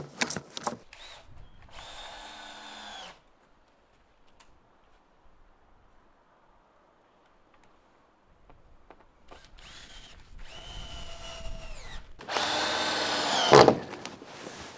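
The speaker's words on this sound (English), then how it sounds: "I'm just going to get them put into place and held in with a clamp and then screwed on." A cordless power drill drives screws into roof timbers in a few short bursts, close and fairly loud, separated by a long quiet gap with faint handling noise.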